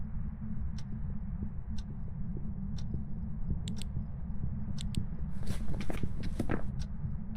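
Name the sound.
ghost footsteps in the video game Phasmophobia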